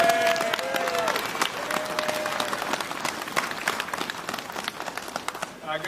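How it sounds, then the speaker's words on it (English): A crowd at a police rally claps steadily, a sustained wash of applause that continues for several seconds with some faint background voices. "give a very big round of applause to a guy who's got a lot of courage"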